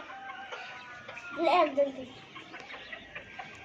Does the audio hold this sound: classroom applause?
no